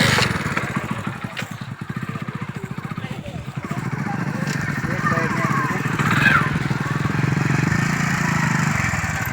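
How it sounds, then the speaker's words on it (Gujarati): A motorcycle engine runs as the bike is wheeled out and started, a close, steady low throbbing rumble that swells slightly midway, with people talking over it. "હવે બાઇક કાઢો."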